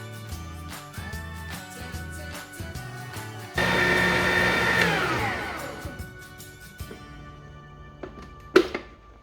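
An electric mixer whips chantilly whipped cream with a steady motor whine for a couple of seconds, after a stretch of clattering, then trails off into quieter knocks and a brief final clatter.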